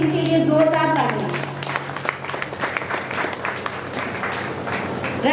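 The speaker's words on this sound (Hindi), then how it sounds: "इस बात के लिए इनके लिए जोरदार तालियां।" A voice speaks briefly at the start, then a poetry-gathering crowd breaks into clapping that continues steadily to the end.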